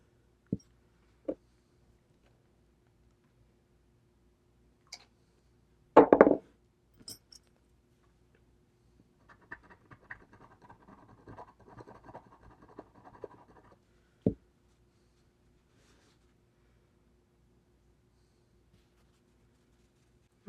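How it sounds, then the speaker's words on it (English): Leftover glue being cleaned and scraped off the back of a metal eyeshadow pan, quiet close scratching and rubbing with a few soft clicks and taps, then a short stretch of fine scraping, in a silent room. "see about cleaning up the back of this pan because there's still a little bit of glue"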